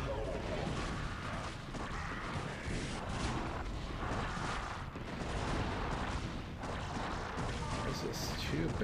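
Siege tanks firing in a StarCraft mission, a dense, continuous barrage of heavy booming blasts and crashes rolling on loudly for several seconds while someone speaks over it.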